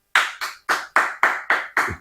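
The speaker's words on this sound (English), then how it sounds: "Can we clap it up for Mike Evans?" A steady run of about eight sharp hand claps in even rhythm, close and clear, from people in a studio clapping for Mike Evans, with no voices over them.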